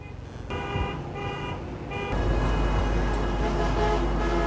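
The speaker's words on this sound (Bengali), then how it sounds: "এই প্রাইভেট কারটার হর্নটা দারুণ, যেমন গুলি করতেছে এরকম মনে হয়।" A private car sounds repeated horn blasts in stop-and-go Dhaka traffic, heard from a motorbike among buses and trucks, over a steady roar of engines and road noise.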